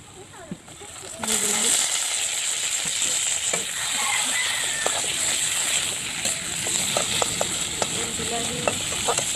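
Tomatoes frying in a pan, a loud close sizzle that jumps up as they hit the oil, with scattered clinks and stirring scrapes throughout.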